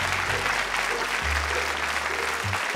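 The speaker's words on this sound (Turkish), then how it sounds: "alkışlıyor bunlar" A television game show's studio audience applauds steadily throughout, a dense, even wash of clapping with no break, while faint low musical tones sit beneath it.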